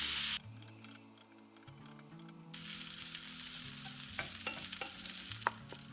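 Beef and egg fried rice with soy sauce being stir-fried in a pan, a soft steady sizzle with a spatula scraping and tapping against the pan, the clinks growing sharper toward the end.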